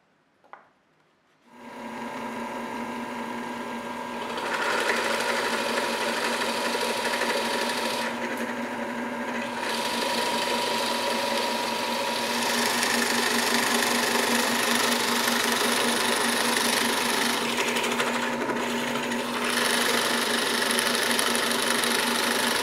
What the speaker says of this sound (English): I decided the easiest way to do that is to just drill them out.